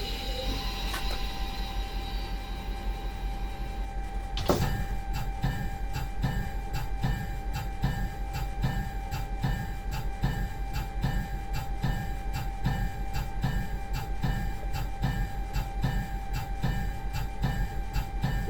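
An F45 diesel locomotive hauling a train in Train Simulator 2021: a low, steady engine drone starts up after a sharp click a few seconds in, followed by regular rhythmic clicking as the train begins to move.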